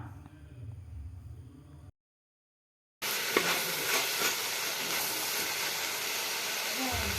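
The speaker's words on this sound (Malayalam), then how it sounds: "ഇടയ്ക്ക് അടപ്പ് തുറന്ന് ഇളക്കിയിടണം. കറിവേപ്പിലയും വഴറ്റുമ്പോൾ ചേർത്ത് കൊടുക്കാം." Kerala-style beef fry with curry leaves being stirred and sautéed in a pan: a low background hum, a brief break, then a steady close sizzling hiss with faint scraping.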